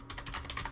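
An address being typed on a computer keyboard, a quick run of about eight soft key clicks in steady rhythm, close and quiet with no talking.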